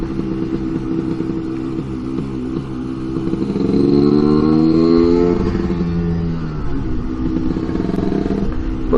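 Scooter engine droning steadily on a road in southern Norway, swelling louder with a rising rev in the middle before settling back to a constant mid-pitched hum.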